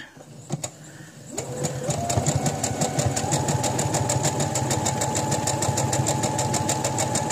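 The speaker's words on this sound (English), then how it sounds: "So I'm going to start sewing. It's going to get loud." A sewing machine stitches a handmade pad. After a brief pause it settles into a steady, rapid, loud mechanical whir that runs without a break to the end.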